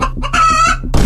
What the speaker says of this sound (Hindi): ये तो मुर्गा है